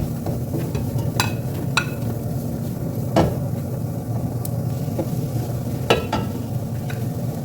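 Onions sizzle steadily in a hot pan for arabic-style lugaw, a soft continuous frying hiss broken by several sharp clicks and scrapes of a utensil against the pan.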